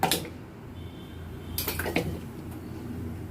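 Yogurt is spooned into a bowl for a chicken tandoori marinade, with a few close metallic clinks and scrapes of the spoon against the dish.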